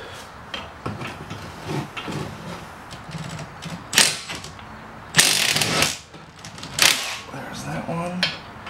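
A ratchet cranks on the 17 mm bolt holding a caliper bracket during a front brake job on a 2003 Chrysler Sebring Coupe, making close, irregular clicking bursts and clanks with speech mixed in.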